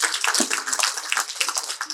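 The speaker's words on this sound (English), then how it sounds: "we all deserve to give ourselves a round of applause" Applause from an audience at a book launch event, a dense wash of many hands clapping steadily throughout, moderately loud with no talking over it.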